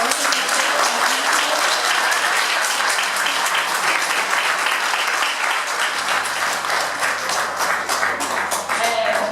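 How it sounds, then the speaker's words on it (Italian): Sustained applause for Marinella at the inauguration of an Alzheimer's relief centre in Ariano nel Polesine, dense clapping from a sizeable crowd lasting throughout, loud and even. "io vorrei un applauso per Marinella"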